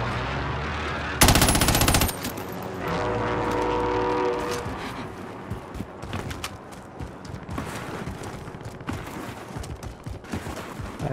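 Video game gunfire during a Call of Duty-style multiplayer match, a loud burst of rapid automatic fire near the start followed by scattered shots and clattering action sounds of varying distance.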